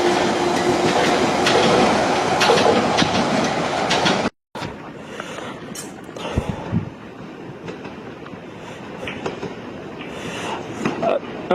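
A Piccadilly line London Underground train passes through Northfields station at night, a loud rumbling roar with rhythmic clickety-clack of wheels over rail joints, cutting off abruptly, then quieter rumble and occasional squeals with faint talk.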